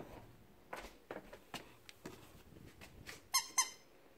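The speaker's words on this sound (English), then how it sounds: "What if I tempt you with a squeaky toy?" Squeaky dog toy squeezed several times, giving short sharp squeaks spaced irregularly, with a louder pair of squeaks near the end, fairly close with quiet room sound between.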